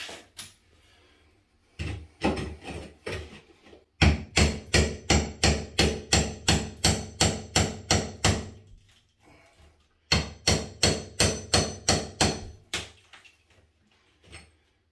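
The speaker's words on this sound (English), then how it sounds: "I just take my hammer and gently knock this loose" A hammer knocks a damaged floor tile loose with rapid, evenly spaced sharp taps in two long bursts, close and loud, separated by short pauses.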